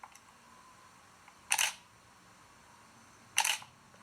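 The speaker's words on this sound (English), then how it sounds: "you'll hear it'll take several photos a second" Camera shutter firing in continuous shooting mode, heard as two separate short bursts of rapid clicks about two seconds apart, close and crisp against a quiet background.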